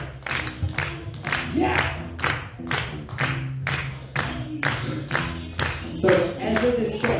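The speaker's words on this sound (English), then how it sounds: "Let's start some clapping, come on!" A comedy-show audience at a Norfolk Day event claps in unison to the Seven Nation Army rhythm, loud regular beats with shouts and cheers over them and a voice yelling briefly.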